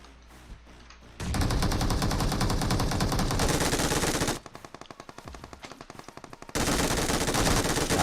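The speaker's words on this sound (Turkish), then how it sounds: "oğlum MG var lan elimde MG" Loud, sustained machine gun fire in PUBG Mobile rattles in long continuous bursts, broken by a stretch of distinct rapid individual shots in the middle.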